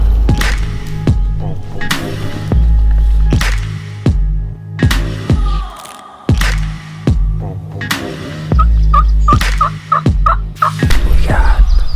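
Wild turkey tom gobbling from distant foggy woods, roughly 250 to 300 yards off, repeated gobbles in quick bursts standing out over a steady low rumble.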